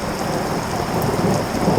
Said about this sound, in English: See if you hear the thunder.